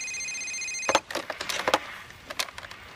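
A telephone rings in the horror film FearDotCom: a bright electronic tone, then a rapid cluster of clattering bell-like trills and clicks in short bursts, close and fairly loud.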